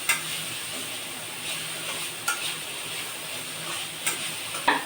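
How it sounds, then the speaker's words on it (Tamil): Onions sautéing in oil in a pan for home-made chicken fried rice: a continuous close sizzle with occasional sharp taps and scrapes of a utensil against the pan, no talking. "நல்லா எண்ணெயில் வதக்கலாம் வாங்க"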